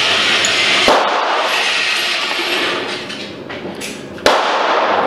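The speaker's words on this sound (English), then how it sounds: "I was shooting without any sights on the guns" Two sharp gunshots from a 1911 Commander .45 ACP pistol fired on a test range, each a loud, abrupt crack a few seconds apart with a short decaying tail and steady outdoor background between them.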